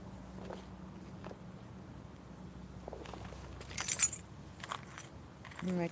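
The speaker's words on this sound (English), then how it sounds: "And my keys got caught up in it." Keys jangle in short metallic bursts while cedar bundles are made for smudging, soft handling noises and faint background rumble around them, quiet and close.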